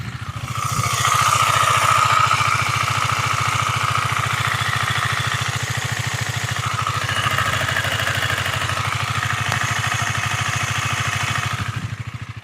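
A used KTM Duke 250 or 390 motorcycle engine idles steadily and loudly up close, a continuous even throb with a faint mechanical clatter, no voices over it, running the whole time.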